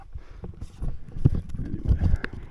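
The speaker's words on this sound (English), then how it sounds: "A herd of cows." A herd of cows moving through bushland, their hooves giving an uneven series of soft thuds and clops close by, with some wind noise across the microphone.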